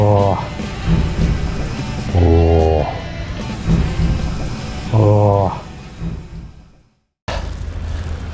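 Steady rain pours during an outdoor vintage market in Okayama, a dense, loud hiss that persists throughout. Tonal tones and voices sound over it at intervals before a brief dropout and the rain resumes.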